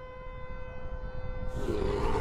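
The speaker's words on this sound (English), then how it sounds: "It sounds like a big siren or something." A loud, steady siren-like drone with sustained tonal bands in a Roblox fishing video game, joined by a rumbling roar that swells toward the end.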